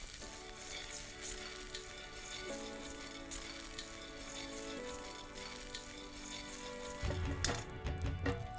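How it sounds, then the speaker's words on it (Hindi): Peanuts roasting in ghee give a steady, moderate sizzle that runs the whole time beneath background music, swelling slightly louder near the end. "थोड़ा और घी में रोस्ट कर देता हूँ"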